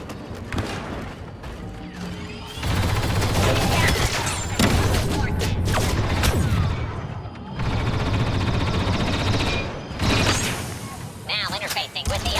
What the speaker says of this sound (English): Sentry gun online.